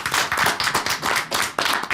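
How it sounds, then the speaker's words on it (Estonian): Studio audience at an Estonian sports television show bursts into brisk, close, energetic applause, a dense burst of clapping sustained for two seconds without talk. "Te väärite kõva aplausi."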